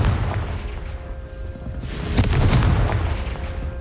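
A Confringo fire spell goes off in Hogwarts Legacy with a deep, rumbling boom and a crackling burst that swells midway through and then lingers over a constant low game rumble.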